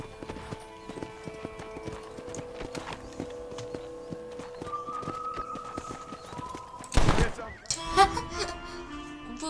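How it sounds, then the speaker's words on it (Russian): Horse hooves clip-clopping in the Red Dead Redemption video game, steady and mid-distance under game music and ambience, ending in a loud crash-like burst near the end. "Вы убили свою лошадь."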